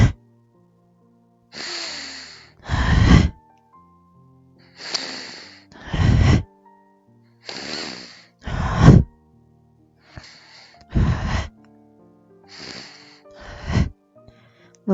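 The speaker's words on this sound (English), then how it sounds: "A few strong exhales to open up the kidney area in our back." Strong, forceful breathing exhales during a curled-over yoga or body exercise, about six loud bursts spaced roughly every two seconds, each preceded by a softer inhale, close and clear with no talking.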